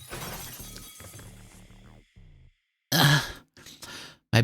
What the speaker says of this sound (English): My back shatters the window and I roll out into the yard.